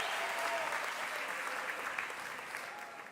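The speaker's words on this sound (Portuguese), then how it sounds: "Queria que você recebesse cada um desses pastores com uma salva de palmas" Church conference audience applauding steadily as pastors are welcomed on stage, a sustained dense clapping that eases slightly toward the end.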